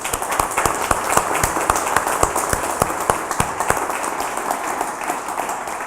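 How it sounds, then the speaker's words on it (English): Audience applause for a design team at a talk, steady dense clapping from a room full of people, with sharp individual claps standing out over a continuous wash throughout. "Round of applause for the design team"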